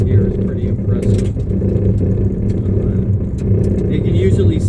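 A car driving along a gravel road, a steady low engine hum and tire rumble with occasional crunches, heard from inside while someone talks over it.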